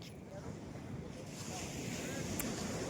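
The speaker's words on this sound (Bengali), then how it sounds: "আর দূরে ওই যে সমুদ্রের আওয়াজ" Sea surf washing onto the beach at Kuakata before dawn, a steady rushing roar of distant waves with some wind buffeting the microphone, faint and continuous throughout.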